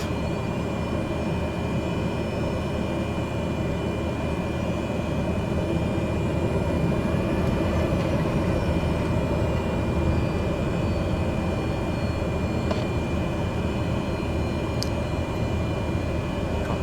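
An aircraft engine idles low and steady in a flight simulator, a continuous droning rumble with a few faint clicks.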